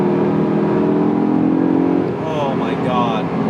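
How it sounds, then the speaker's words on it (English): A 2008 Audi R8 engine revs from inside the cabin, its rising and falling tone paired with an airy intake rush from the side blades, while a person talks over it. "you can just hear the air being sucked into the engine from the side blades"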